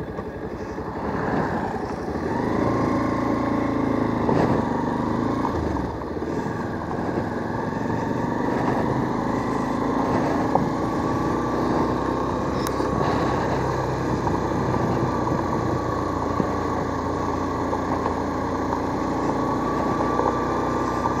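A motorcycle rides over a broken, rough road on a Dibrugarh to Itanagar trip, its engine droning steadily up close with wind rush and occasional bumps and rattles throughout.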